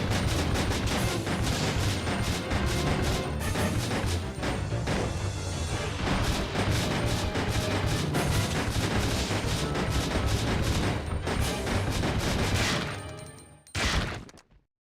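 Dense, continuous explosive blasts and gunfire from a grenade launcher in a Resident Evil video game, loud and relentless for most of the stretch, then breaking off abruptly near the end with one last short burst.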